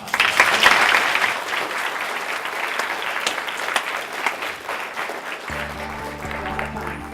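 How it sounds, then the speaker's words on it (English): Audience applause closing an evening lecture on voting rights, dense and sustained clapping that swells at the start then holds steady, with a faint tonal hum entering near the end. "So again, just want to give another round of applause."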